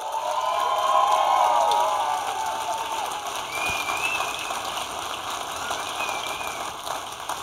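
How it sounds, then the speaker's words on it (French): An audience at a regional student performing-arts show finale applauds the artists, producing dense, sustained clapping with some cheers and whistles that swells early and then settles into steadier applause. "On peut encore une fois applaudir tous les artistes qui ont été là ce soir."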